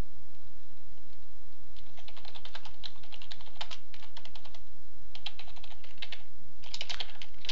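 Steady typing on a computer keyboard, close and alone, in quick clustered bursts of clicks with short pauses between them.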